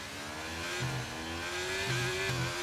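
Formula 1 cars rev and accelerate off the start line in the F1 23 racing game, a loud, whining engine note that climbs in pitch with a few short dips between gear changes.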